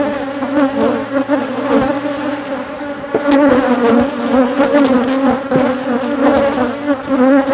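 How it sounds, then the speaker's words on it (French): Dense, steady buzzing of honeybees around a mini-plus hive and nucleus colony outdoors in hot weather, loud and close throughout with no talking. "Donc les abeilles vont monter pour s'occuper du couvain et mon essaim sera garni."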